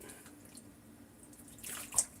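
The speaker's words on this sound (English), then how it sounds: "You're rinsing the butter." Water runs and splashes over homemade butter being rinsed in a bowl, a faint trickle that swells into a brief, closer splash near the end.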